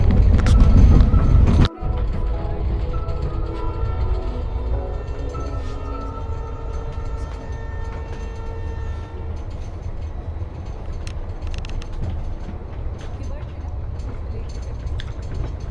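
Hyderabad Duronto Express picking up speed after leaving Nizamuddin, a loud steady rumble heard from inside a carriage with faint track clatter and a sharp knock near the start.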